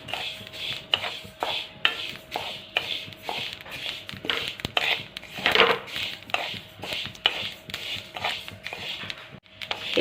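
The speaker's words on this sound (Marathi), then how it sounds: "आता हे तीळ आहे ना आपल्याला एकसारखं हलवत लाल रंग येईपर्यंत किंवा खरपूस तीळ भाजून घ्यायचं आहे" Sesame seeds being stirred and roasted in a pan, a steady close scraping and rattling of a spoon against the pan with soft crackle, continuous and alone without talk.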